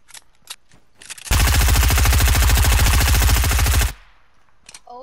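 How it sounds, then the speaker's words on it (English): A new automatic gun in Fortnite fires one loud, rapid sustained burst of about two and a half seconds, with quieter game sounds before and after. "Is that the new gun? Yeah. Pretty good gun."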